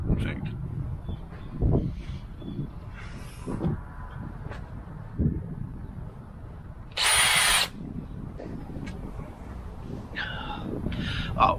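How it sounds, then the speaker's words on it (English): A power drill whines in short bursts drilling into the metal bonnet of a Jaguar XF, with brief high buzzing spurts between low thuds, under intermittent talking nearby. "I'm going to drill a hole in my XF Jag bonnet"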